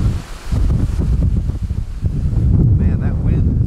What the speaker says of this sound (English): Man, that wind is brutal.